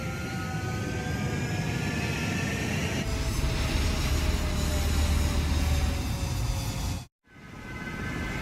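In Ace Combat 7, fighter jets roar loudly on the runway as they take off: a steady, powerful jet rumble layered with rising engine whines. It cuts out briefly near the end, then resumes.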